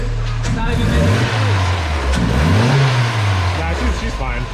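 A car engine revs up and down several times, rising and falling pitch sweeps from a mid-range motor, loud and close, with a person speaking over parts of it.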